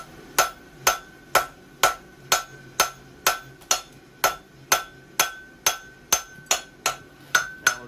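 Steady hammer blows on hot steel while forge welding a bar, about two strikes per second, each a sharp ringing clang with a quick decay, close and loud, with no talking.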